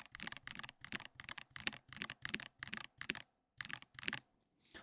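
Typing on a keyboard fitted with silent switches: soft, muted keystrokes in a steady rapid rhythm, close by, with a couple of brief pauses and no talking.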